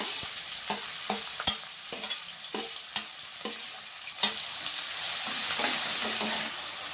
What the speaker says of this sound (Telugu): యాలక్కాయ లవంగాలు రెండు వేశాను అవి కూడా వేగిపోతున్నాయి ఇంకా ఉల్లిపాయలు వేసుకుంటున్నాను